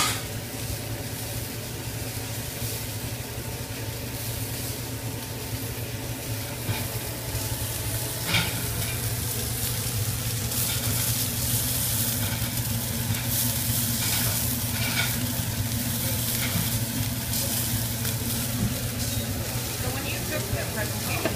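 Salmon sears in a hot pan, a steady loud sizzle and crackle running throughout with occasional sharper pops, and a voice speaking faintly over it.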